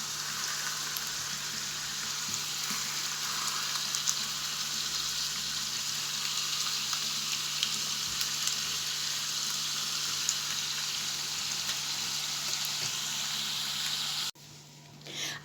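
Potatoes frying in hot oil give a steady, dense sizzle with scattered pops that runs for about fourteen seconds before cutting away abruptly.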